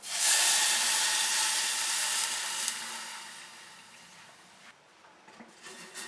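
Milk poured into a hot pan for Alfredo sauce, a loud broad sizzling hiss that rises at once and slowly fades over several seconds, with a brief scrape near the end.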